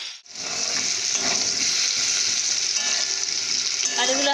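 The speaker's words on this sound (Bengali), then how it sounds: "আপনারা হালকা করে আলুটাকে ভেজে নেবেন" Potatoes frying lightly in oil, a steady close sizzle and crackle with faint stirring, no voices, for a banana fritter recipe.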